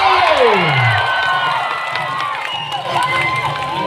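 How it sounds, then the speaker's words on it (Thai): Crowd at a boxing event cheering, whooping and clapping, a loud, dense roar with shouting voices rising and falling throughout. "แฟนหมัดมวยชอบหรือเปล่าขอเสียงปรบมือหน่อยเลย"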